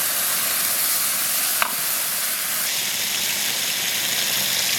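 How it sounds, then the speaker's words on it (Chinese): Boiling water poured into a wok of stir-fried diced pork and pork sausage sets off a loud, steady sizzling hiss that holds for several seconds, with a brief sharper spatter partway through. "倒入开水"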